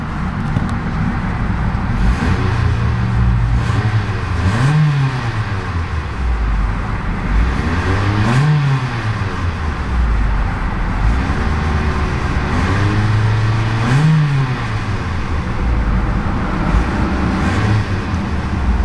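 A 2011 Mitsubishi Outlander Sport SE AWD's inline four-cylinder engine idles and is revved several times, each rise and fall of pitch clearly audible, loud and close with a steady running hum between blips.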